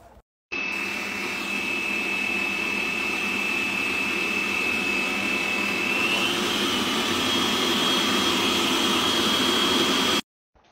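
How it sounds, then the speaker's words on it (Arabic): An electric mixer whips cold cooking cream at top speed, producing a steady high-pitched whine and roar that starts abruptly, runs loudly throughout, rises slightly in pitch midway and then cuts off. "ونخفق على أعلى سرعة علشان تتكثف معاكي الكريمة"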